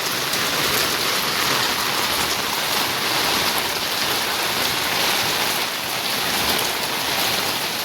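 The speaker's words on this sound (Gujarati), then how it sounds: "વરસાદ ચાલુ જ છે" Heavy rain pours steadily onto a rooftop dhaba, a dense, constant hiss of drops striking surfaces with no pause and no voices.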